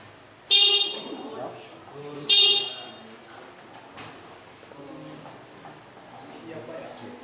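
A vehicle horn gives two short, loud honks about two seconds apart, followed by a quieter stretch with a voice talking faintly underneath.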